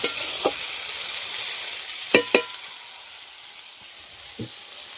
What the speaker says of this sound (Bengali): কড়াই দিয়ে ভালো করে নেড়ে নেব।